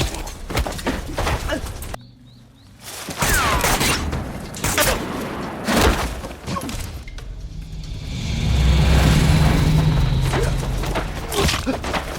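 Gunfire in a film as fighters shoot wildly at soldiers: repeated sharp bursts and rapid volleys, loud and close, broken by a short quiet gap, with rumbling action noise later.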